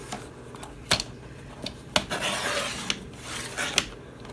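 Scrap paper for a junk journal is cut with a few sharp snips and scrapes, then a sustained rasping slide of the blade through the sheet, close and fairly quiet with no talking.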